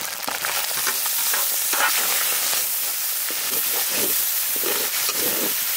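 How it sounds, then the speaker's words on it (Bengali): Chicken with ginger garlic paste, green chilli paste and tomato frying in hot oil, a loud continuous sizzle and hiss with stirring scrapes, close up and without talk. "ওই তেলেই আমরা চিকেনটা রান্না করব"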